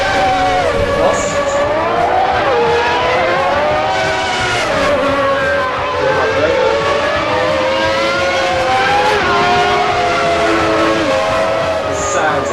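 Racing cars in the Assetto Corsa video game, Lamborghinis and Williams, scream past with high revving engines whose pitch rises and falls through gear changes. The engine noise is loud and continuous throughout.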